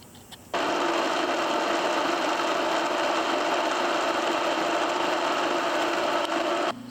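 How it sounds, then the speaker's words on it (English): A milling machine cuts welds off a blacksmith-made brake rod from a two-foot-gauge steam locomotive, giving a steady, loud, dense machining whir that starts abruptly and runs unbroken to the end, with no talk. "now it's just a matter of me putting this in the mill and machining off the welds"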